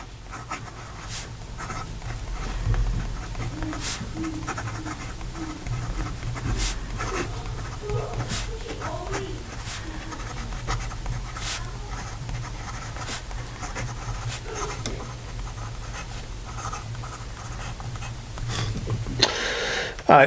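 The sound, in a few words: Carolina Pen Company Aiken fountain pen with Jowo medium nib writing on paper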